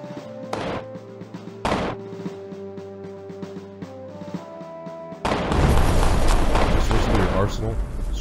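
Heavy combat rifle fire in the video game Echoes: a couple of sharp booming shots amid game music and voice, then a dense, loud stretch of continuous firing and explosions.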